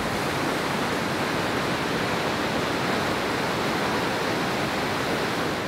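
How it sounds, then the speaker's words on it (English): Steady, dense roar of a waterfall in the Brecon Beacons, swollen after heavy rain, a continuous broadband rush of falling water that stays loud and unchanging throughout with no voices. "These waterfalls are really dramatic, especially after the heavy rain we've been having"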